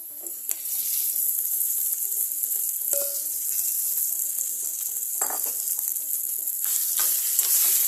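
Crumbled idli being stirred into a hot pan of tempered spices with turmeric, a steady close sizzle with intermittent scraping and clinks of a spoon against the pan.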